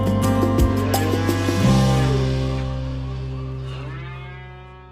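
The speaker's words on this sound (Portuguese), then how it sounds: "chora no ar o mugir dos fatigados bois." Tired oxen low in long, drawn-out bellows with rich harmonic tones, loud and close, one call sliding into the next and fading slowly at the end.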